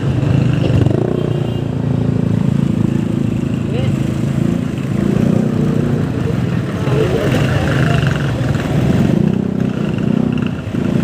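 A Honda Click 125 scooter rides through congested traffic, a close, continuous engine drone with fluctuating throttle and surrounding vehicle noise, while a rider talks over it.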